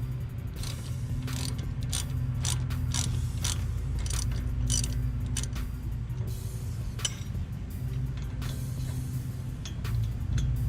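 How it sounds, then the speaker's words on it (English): A ratchet clicks in a fast, continuous run as it backs a brake caliper bolt all the way out on a Pontiac G8 front brake job, with close, crisp pawl ticks over a low steady hum. "then you can use your ratchet to take the bolt all the way out"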